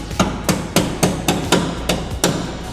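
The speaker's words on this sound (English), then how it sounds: "we hit with a hammer so that a trace remains on the back side." A hammer strikes a plastic fender liner on a Chevrolet Silverado eight times in a steady rhythm, each blow a close, sharp knock, with no talking.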